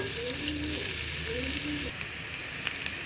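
A small, finely chopped onion fries in oil with a soft, steady sizzle, fairly quiet and continuous, with a faint voice briefly audible at the start.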